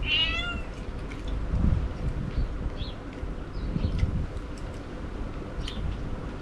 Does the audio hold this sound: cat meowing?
yes